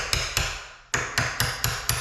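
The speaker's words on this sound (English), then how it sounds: "You want to be really careful when you're hammering near the woodwork." Sharp metallic hammer strikes drive a hinge pin door stop into a door hinge, seven close, loud taps in a fairly even rhythm with one brief pause partway, each ringing briefly before the next blow.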